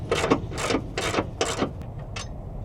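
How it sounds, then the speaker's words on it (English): Ratchet wrench removing a 13mm battery hold-down bolt on a GMC or Chevy truck, several quick clicking ratchet strokes in an even rhythm, close and moderately loud. "So this first, we'll go ahead and remove this bolt here."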